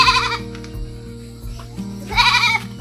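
Goat bleating near a small farm outing, two loud wavering bleats at the start and end with quieter rustling and low background hum between them.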